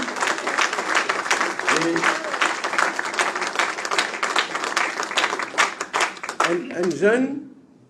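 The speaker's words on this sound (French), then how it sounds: "qui me demande de tout applaudir" Audience applause at a political gathering honouring newly named presidents, a dense burst of many hands clapping steadily for several seconds with some voices mixed in, then tapering off near the end.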